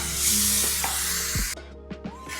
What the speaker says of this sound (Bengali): দিয়ে আমি মশলাটা ভালো করে কষিয়ে নিই।